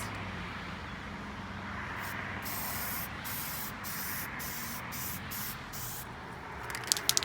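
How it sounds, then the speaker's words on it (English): An aerosol can sprays glow-in-the-dark paint in thin coats, giving a steady close hiss broken by several brief pauses, followed by a few sharp clicks at the end. "as much as this can will spray out, the darker your glow-in-the-dark effect will happen"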